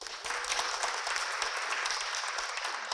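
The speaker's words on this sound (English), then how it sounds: "We like to clap in sports, so you definitely clap it up anytime" An indoor audience at a Women's Sports Foundation event at Hawken School claps steadily, a dense, continuous round of applause throughout.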